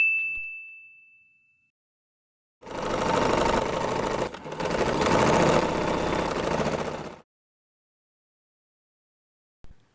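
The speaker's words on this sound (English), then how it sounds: "Sew along these folded parts to secure them in place." A sewing machine stitches folded fabric for a beginner's tote bag in a loud, rapid run of about four and a half seconds, broken by a brief pause, after a single faint ding near the start and then silence.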